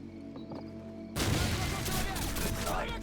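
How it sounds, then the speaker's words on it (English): A grenade blast lands suddenly in the Modern Warfare video game, followed by a dense roar of gunfire and crashing debris, loud and close, after a quieter stretch of background game sound. "let's just grenade them"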